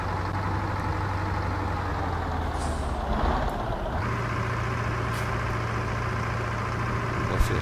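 Air brakes hiss on a MAZ 504 B truck in Euro Truck Simulator 2, a sharp release over the steady low drone of the idling engine, with the engine note dipping and resuming partway through.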